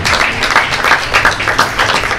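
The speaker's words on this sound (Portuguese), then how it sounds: "Podem bater palmas, ela merece." Spectators applauding at a Mondioring dog sport competition, a loud, dense wash of many hands clapping together, continuous and fairly close throughout, with no speech over it.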